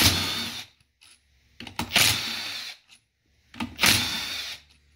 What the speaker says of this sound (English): we're going to take every bolt out of this valve body